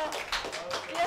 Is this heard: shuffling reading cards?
no